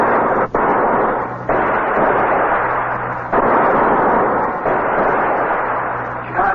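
A gunshot sound effect in a CBS Radio Mystery Theater drama, heard as a series of loud, booming blasts with short gaps between them, heavy and rumbling, with no talking.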